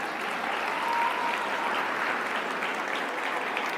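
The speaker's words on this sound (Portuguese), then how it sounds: "salva de palmas para o Flávio Augusto da Silva." A seminar audience breaks into sustained applause for a speaker, a dense, even patter of many hands clapping at once that fills the room steadily without voices on top.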